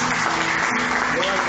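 A church congregation claps together in a brief, dense burst of applause, steady and fairly loud, with faint voices mixed in underneath.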